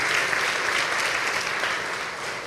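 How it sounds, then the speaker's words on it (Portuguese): Loud, thick applause fills a gathering with a religious tone, holding evenly throughout and fading very slightly near the close. "dê uma forte salva de palmas"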